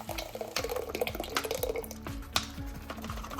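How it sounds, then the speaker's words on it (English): Broth poured into a pot makes a close, continuous liquid splashing with a few light knocks against the cookware, fairly quiet and steady. "Now I'm gonna add my broth."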